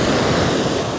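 Strong ocean waves rolling onto a beach at Indira Beach House in Botolan, Zambales under grey, cloudy skies, a steady loud rushing wash of surf with wind buffeting the microphone.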